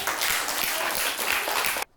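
Brief, close applause from a small group clapping quickly and evenly, then stopping abruptly into near silence.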